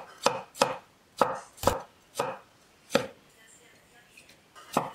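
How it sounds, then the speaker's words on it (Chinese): A kitchen knife chops a washed tomato into small pieces on a cutting board, giving about seven crisp, close thuds at an uneven, unhurried pace with quiet gaps between strokes and no talk. "最后把番茄切成小块"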